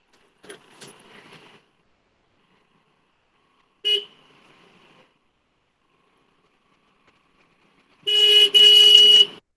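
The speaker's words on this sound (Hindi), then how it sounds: "ट्रैफिक नॉइस आ रहा है।" Traffic comes through an open microphone during an online workshop: brief faint rattles and a short blip, then a loud car horn blast near the end, with quiet gaps between.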